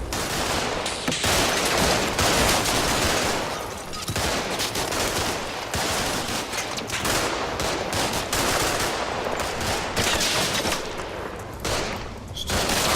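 A heavy machine gun in the video game Combat Mission: Shock Force fires loud, dense bursts one after another, with rattling volleys and booming gunfire filling the whole stretch.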